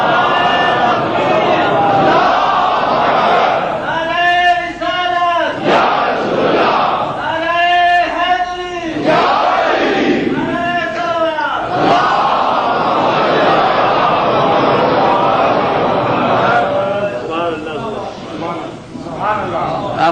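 Religious gathering at a sermon where a crowd chants slogans in loud repeated call-and-response bursts, voices swelling together in rhythmic waves between one leading shout, close and continuous.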